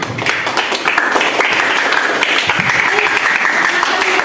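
Students in a classroom applaud a presenting group, a brisk, fairly loud burst of clapping that carries on evenly, with some voices mixed in.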